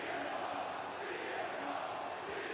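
Wrestling video game crowd roaring steadily at Clash At The Castle, a dense, continuous arena din with no breaks, filling the whole moment.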